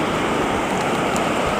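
A fast-flowing river in an Arizona canyon rushes loudly and steadily nearby, a dense, unbroken roar of churning water with no voices over it.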